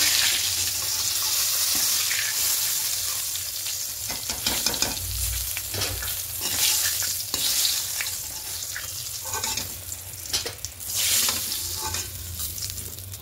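Steady, loud sizzling of poppy seed paste frying in oil in a pan, close by, with occasional scraping and stirring clatter over the hiss.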